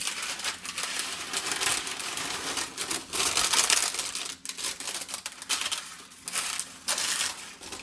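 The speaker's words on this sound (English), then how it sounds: "I am just going to remove the parchment paper and I'm not saving it" Parchment paper is pulled off strawberries and crumpled in the kitchen, giving close, continuous crinkling and crackling in irregular bursts, loud and papery with brief quieter gaps.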